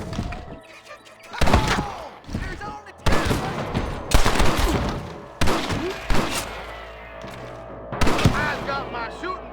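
Gunfire in the Red Dead Redemption video game on PC: repeated loud bursts and single shots crack in quick clusters across the scene, some echoing thuds between, with no voices in the clip.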